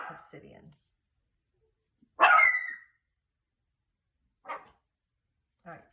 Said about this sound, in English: those are my dogs in the background barking at nothing